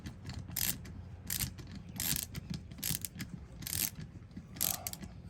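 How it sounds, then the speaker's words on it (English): Nuts being tightened with pliers on the rod of an Atlas pasta machine, a series of close metallic clicks and ratcheting scrapes in irregular bursts, fairly loud against a quiet background. "I'm going to use pliers to hold the nut on the other end of that rod still"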